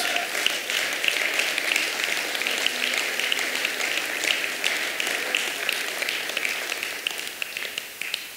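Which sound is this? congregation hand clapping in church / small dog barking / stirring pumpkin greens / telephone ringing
congregation hand clapping in church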